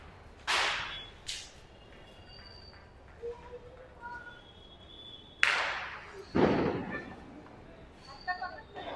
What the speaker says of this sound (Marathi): फटाके वाजवतात